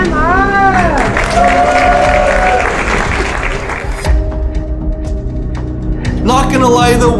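A crowd applauds and cheers loudly for someone starting a giant-food eating challenge, with a dense wash of clapping throughout. Someone talks over it.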